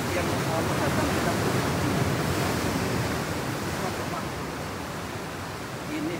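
Ocean waves break continuously at a beach on Indonesia's south coast, a dense, loud, roaring surf with wind buffeting the microphone and no pause throughout.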